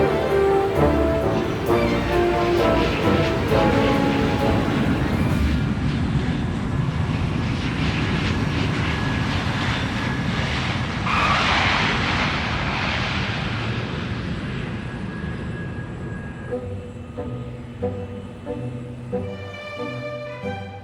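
Airliner on approach into Heathrow Airport, a loud continuous engine roar that swells and passes overhead, then fades toward the end.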